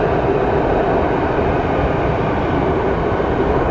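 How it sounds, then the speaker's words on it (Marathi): A Mira-Bhayandar Metro Line 9 train arriving at Kashigaon station, a loud, steady broadband rumble and rush of the approaching train filling the whole clip without pause, close by and with no voices. "पण तिकडे काशीगावची मेट्रो आली"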